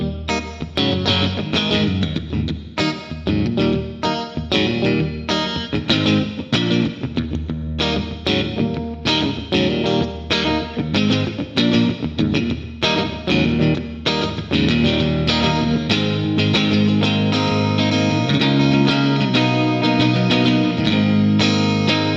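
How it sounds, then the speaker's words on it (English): Dense music with instruments run through a small, room-type 1970s reverb unit, decay shortened, brightness raised and wet mix lowered, played loud and steady with no talking. "Let's try and get a smaller sounding reverb. Let's try and get closer to a room type."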